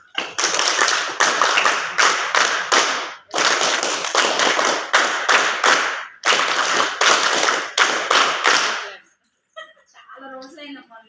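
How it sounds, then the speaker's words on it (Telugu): A group of women at a community meeting during an official's visit claps hard in a unison rhythm, in three loud bursts separated by short pauses, and then falls quiet as brief speech begins. "ఒకసారి మేడం పేరు మీద క్లాప్స్."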